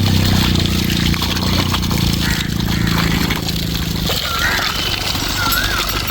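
Water splashes and runs steadily as feet and hands are washed, with a loud, continuous rush and a low mechanical hum underneath for the first few seconds.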